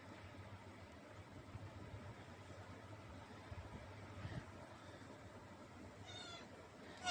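A mother cat meows softly several times at a distance, with a low engine-like hum running underneath throughout.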